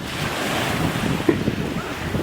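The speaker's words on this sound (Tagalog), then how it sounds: "ang lamig, ang lakas ng alon" Strong surf pounds the shore at Boracay beach during a storm, a steady roaring wash of waves with gusting wind buffeting the microphone, loud and continuous with no voices.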